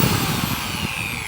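A Barjack professional six-speed rotary polisher runs steadily at close range, a continuous whirring motor hum with a faint high whine and no voices.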